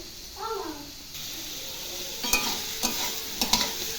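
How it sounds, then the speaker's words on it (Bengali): Vegetables fry in a pan under a soft constant sizzle, punctuated by a few sharp scraping clacks of stirring near the end, after a brief murmur of voice at the start. "অনেকটা ভাজা হয়ে গেছে, আর একটু ভেজে নেব।"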